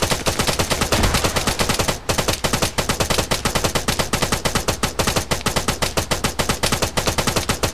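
Sustained automatic gunfire in Arma 3 during a firefight: a dense, loud, rapid rhythm of shots runs through the whole stretch with almost no pause and no voices over it.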